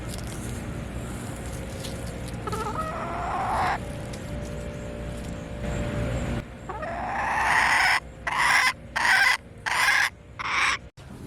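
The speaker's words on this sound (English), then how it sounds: "Ah, top chicken." Chickens on a farm cluck and squawk close by, with a series of loud, rapid rhythmic calls near the end over a steady background rumble.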